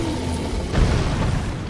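A Rune Bear in Elden Ring pounds the ground with its paws in Limgrave, a single heavy low thud landing mid-clip over a constant rumbling game ambience.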